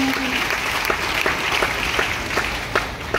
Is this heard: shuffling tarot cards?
no